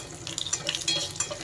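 Sun-dried chillies crackle and sizzle in hot oil with urad dal, mustard seeds and cumin, a steady close frying hiss with scattered sharp pops and stirring, no voices.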